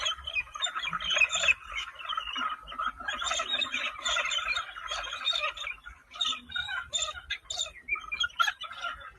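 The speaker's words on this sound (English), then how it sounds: "I think that's a galah." Galah, a native Australian pink and grey cockatoo, giving a run of harsh, scratchy screeching calls in rapid irregular bursts, fairly loud and close, with no talk.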